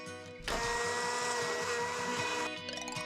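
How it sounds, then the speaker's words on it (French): A blender whirs into action after a brief pause, a loud steady motor whine holding for about two seconds while mixing pompoms, then winding down. "Mets les pompons dans le mixeur."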